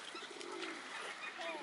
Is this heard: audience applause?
no